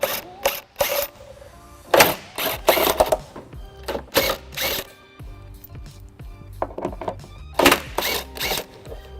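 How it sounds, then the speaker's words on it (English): An electric impact wrench with a 15mm socket removes the hitch-area bolts on a 2001 Pontiac Aztek, firing in short, loud rattling bursts separated by pauses and clunks. "I'll be using electric impact with a 15mm socket."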